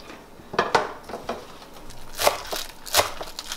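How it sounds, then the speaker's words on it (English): A knife chopping cilantro and green onion on a cutting board for Thai rice soup with pork, a handful of sharp, irregular cuts close by with quiet gaps between them. "And I gonna cut the cilantro and the green onion."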